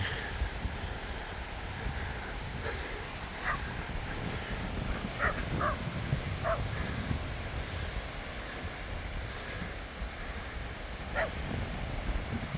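A dog barks a few scattered times at a distance on a beach at Hel, short faint yelps over constant wind noise and surf.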